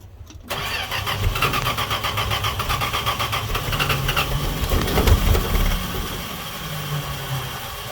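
A Dodge D100 truck with newly installed battery terminals cold starts: a quiet moment, then the engine catches abruptly and settles into a loud, rough, steady idle close by.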